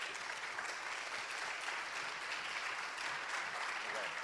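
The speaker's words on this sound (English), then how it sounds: "So, a round of applause, please." Audience applause for panelists on a conference main stage, a steady wash of clapping from a crowd throughout, even and moderately distant.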